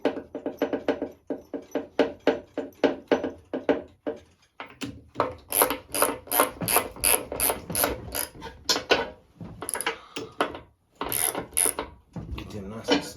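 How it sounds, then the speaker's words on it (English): Ratchet wrench tightening bolts on a Rural King RK19 tractor mower deck, rapid repeated clicking strokes in bursts with short pauses, close and fairly loud, with a voice briefly speaking. "So always put all the bolts in loose and then tighten them all at one time."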